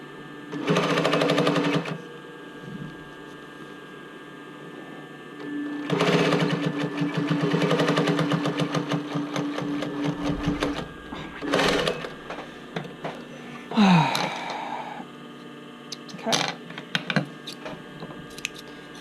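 Sewing machine stitching swimsuit fabric for a bra cup swim top, running in several bursts of a few seconds with pauses and small handling clicks between, close and fairly loud.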